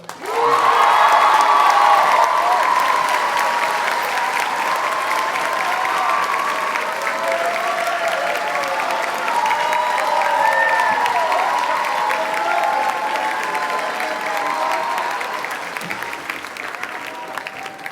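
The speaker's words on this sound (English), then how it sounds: "please give your greatest round of applause for our valedictorian, William Shah" A graduation audience at the 2019 Abbey Park High School commencement gives the valedictorian a long, loud round of applause, with scattered cheers and whoops in the crowd that slowly taper toward the end.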